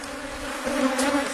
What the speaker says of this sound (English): Box 5 came off and had bees in it